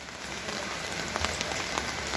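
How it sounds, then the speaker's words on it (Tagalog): Heavy rain pours down in Cavite, Philippines, in a dense, loud, continuous hiss, with occasional sharper drops standing out. "Ayan, medyo naulan na talaga. Ang lakas ng ulan."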